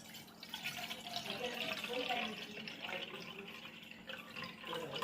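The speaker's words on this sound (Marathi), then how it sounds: "तर चला पहिले पाणी घेऊ।" Water is poured into a bottle to make lychee juice, a soft, faint trickling and filling sound with quiet indoor ambience, and a voice can be heard faintly.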